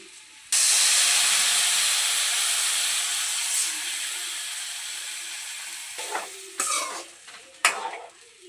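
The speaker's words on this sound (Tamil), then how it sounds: "கரைச்சி வச்சிருக்க புளியை சேர்த்துருவோம்" Tamarind water poured into hot oil for a green chili tamarind thokku bursts into a loud, steady sizzling hiss that slowly fades, followed near the end by a few brief stirring scrapes and clanks.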